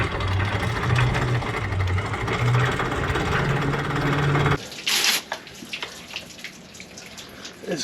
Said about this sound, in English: Let it soak and then squirt it off with the freshwater system